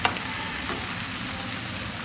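Onions, tomatoes and green chillies sizzle steadily in masala in a pan, a close, continuous hiss of frying with faint stirring scrapes and no talking.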